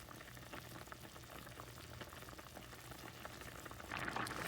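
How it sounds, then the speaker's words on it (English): A pot of homemade turkey dumplings simmers on the stove, giving a faint, steady bubbling and soft popping that grows slightly louder toward the end. "we're just going to let that sit there and simmer so all the ones on the top will get done"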